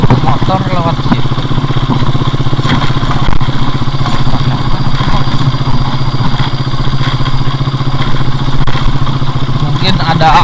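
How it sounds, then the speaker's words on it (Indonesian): A motorcycle engine chugs loudly and close for the whole stretch on a road in the village of Pasir Gombong near the old Antam Cikotok mine, with a steady rough putter. "Set motor lewat situ."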